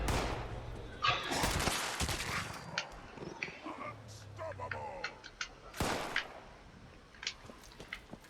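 Gunfire from an explosive weapon in Fallout 76, a few sharp, loud blasts with a rumbling tail spaced across the span, with a voice talking over parts of it.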